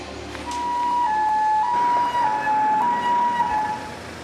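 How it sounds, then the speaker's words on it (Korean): A mountain rescue team's emergency vehicle from the Sancheong fire station sounds its siren, a loud, steady wailing tone that rises and falls in a repeating cycle and carries clearly over low road and engine rumble. "사이렌 소리를 울리며 긴급하게 출동한 산청소방서 산악구조대원들"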